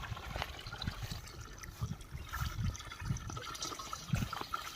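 Water pours and splashes into a pesticide spray tank, gurgling in uneven surges, close and moderately loud with no talking.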